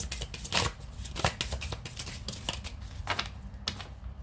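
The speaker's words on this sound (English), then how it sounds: "One last shuffle." Tarot cards being shuffled by hand, a close, quiet run of rapid papery riffles and soft slaps in an uneven rhythm, with no talk.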